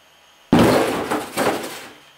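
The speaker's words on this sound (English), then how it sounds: "tiptoeing up to the door, he quietly opened it and peeked in." A door opens with a sudden wooden clunk and rattle, followed by a second bump and a brief scrape, loud and close with no voices.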